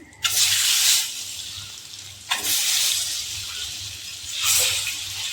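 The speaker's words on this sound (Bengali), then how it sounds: "ডিমগুলো লাল করে ভেজে নেব" Eggs frying in oil with turmeric and salt in a pan give loud bursts of sizzle, three hissing surges that swell and fade in turn, with no talking.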